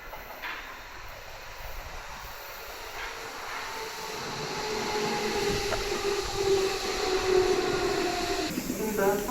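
Inside a moving train in Berlin, headed for Spandau, a steady rumble and hiss of the carriage runs throughout, slowly growing louder, with faint rail clatter and a thin high whine.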